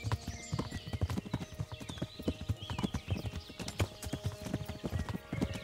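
Horse hooves clip-clop in a steady trotting rhythm while riding in the medieval game Kingdom Come Deliverance, close and continuous, with an occasional whinny and faint background ambience.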